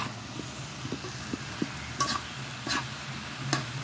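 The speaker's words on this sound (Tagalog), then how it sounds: "Haluin lang natin guys ng mabuti." A spoon scrapes and taps through pinakbet vegetables in a frying pan, with soft irregular strokes over a low steady sizzle and a few sharper metallic clinks near the end.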